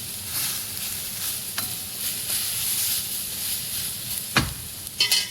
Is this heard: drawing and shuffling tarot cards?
no